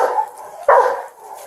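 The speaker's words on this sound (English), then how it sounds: "Yeah, go get your dog. Get the dog." A police dog barks once at close range during a police search, a single loud, sharp bark following a quieter whining sound.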